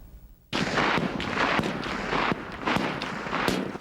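Rifles and pistols fire in a Marine Corps marksmanship championship, a dense run of sharp cracks and reports with no break, close and loud against steady range noise.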